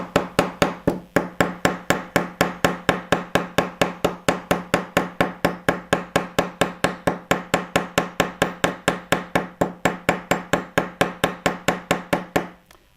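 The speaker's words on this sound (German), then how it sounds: "man muss wirklich schön den Nietkopf ein bisschen modellieren, schön seitlich draufschlagen." A hammer strikes metal in a fast, steady rhythm, dozens of sharp ringing blows close by, each tapping the side of a bronze rivet head, stopping abruptly at the end.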